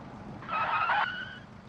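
A Ford Mustang SVO in a racing video game skids with a short, shrill tire squeal that rises over a low engine rumble, then fades out within about a second.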